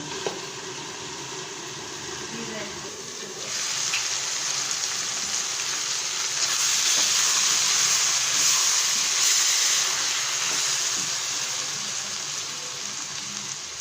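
Cubed potato and eggplant curry sizzles under a lid in a pan, a steady hiss and crackle that swells louder partway through and stays even, with no talking.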